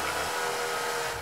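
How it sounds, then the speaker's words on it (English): A chainsaw in the video game Planet Nomads buzzes continuously while cutting trees, a loud, close, steady high-pitched whine for a brief moment. "when we attack them with the chainsaw"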